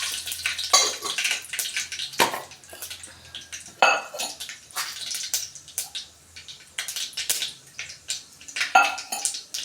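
Mustard seeds dropped into hot oil in a pan crackle and pop in bright, irregular bursts, with metal pan and utensil clatter close by and no voices.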